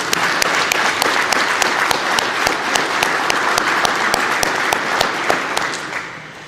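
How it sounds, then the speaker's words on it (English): A large crowd at a South Carolina Highway Patrol academy graduation gives the new graduates a loud, dense round of applause that holds steady, then fades near the end. "Give yourself a round of applause."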